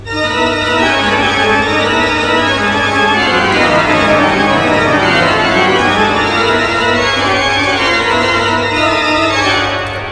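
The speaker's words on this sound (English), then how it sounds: "you use your right hand only, in this case, on the black keys, left hand on the white keys, and you just alternate it very quickly" An organ toccata, with the right hand on black keys and the left on white keys alternating very quickly, a loud, dense, sustained rippling wash of pipe tones that keeps going without a break.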